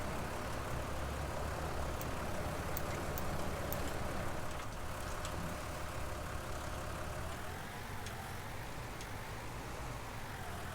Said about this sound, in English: This John Deere's got quite throaty for a little 4-cylinder